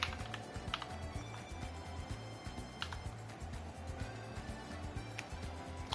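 Rapid keystrokes on a computer keyboard clatter steadily for several seconds, fairly close and moderately loud over a low background hum, with no talking.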